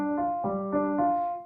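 A dominant seventh chord without its third, voiced as sustained tones that shift across four quick pulses in about a second and a half, clear and close with no voices.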